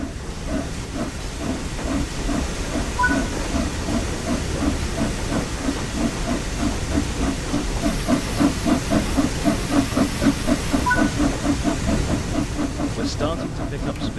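A steam locomotive pulls away as the regulator is opened, with steady hissing steam over a rhythmic chuffing and clanking that quickens slightly, continuous and fairly close throughout.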